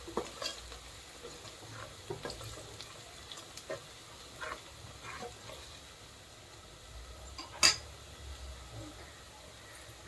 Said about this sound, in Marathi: कांदा बघा असं थोडासा लाल होईपर्यंत भाजून घेऊया। थोडं 2 मिनिटं परत हलवूया आपण।